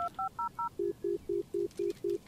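A phone keypad in the video game Blair Witch gives a quick run of ten short dialing tones, the first four higher-pitched and the last six lower, evenly spaced, clean and fairly quiet.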